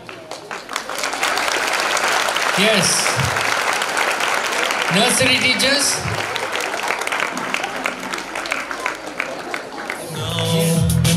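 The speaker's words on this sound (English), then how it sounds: "don't stop applauding." A school talent day audience applauds continuously during a fancy dress competition, a broad steady clapping that swells and holds, with a few voices speaking over it and brief music-like tones cutting in.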